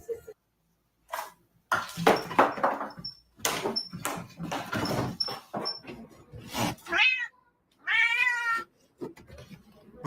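A cat meows and caterwauls indoors, several loud, drawn-out yowls with wavering pitch between clattering and thumping noises, including a long wail near the end.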